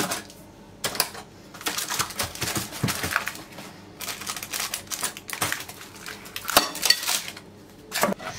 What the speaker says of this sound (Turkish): kenarlardan bıçakla biraz genişletiyorum rahat çıkması için.